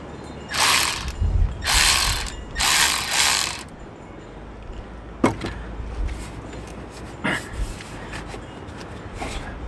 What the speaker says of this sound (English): Working, using my new tools here. Got my M12 ratchet.